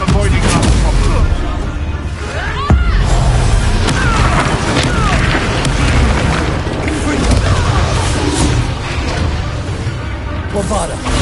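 A Bombarda spell explodes in Hogwarts Legacy with a loud, dense boom amid constant game noise and music, with a voice calling out over the blasts.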